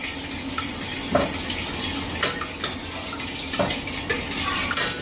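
Fried chicken batter is stirred in a bowl with a utensil, giving a continuous wet swishing under a sizzle with repeated light clicks and knocks against the side.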